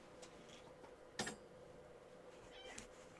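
A faint, brief cat meow over a steady low hum, followed by a second soft meow a moment later.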